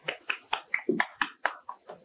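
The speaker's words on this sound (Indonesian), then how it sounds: "Tepuk tangan dulu dong buat hari ini." About nine separate hand claps in a slow, even rhythm, close and fairly loud, with no crowd behind them and no talk.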